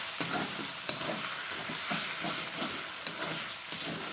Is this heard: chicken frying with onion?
yes